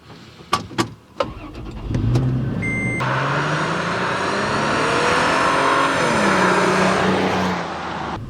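A Toyota FJ Cruiser with a 4-liter V6 is started after a few clicks and thumps, then settles into a loud, close, steady engine drone that rises and falls as the SUV pulls away.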